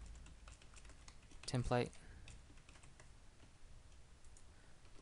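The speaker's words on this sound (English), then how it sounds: "type the word department" Fingers type on a computer keyboard, with quiet, scattered key clicks running throughout, briefly under a man's spoken word.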